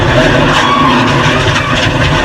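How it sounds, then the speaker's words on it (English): A race car slides to a stop during the 2004 Daytona 500, producing a loud, continuous roar and skid noise for a couple of seconds, with dense broadband engine and tire sound throughout and no speech. "He said all this while he's sliding to a stop."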